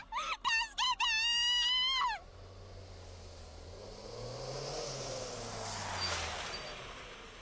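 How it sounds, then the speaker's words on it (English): A short harsh wailing cry fades out, then a video game car engine rumbles with rising and falling revs, fairly steady and moderately loud. "I hear a sound. A car's exhaust. The honking of a horn."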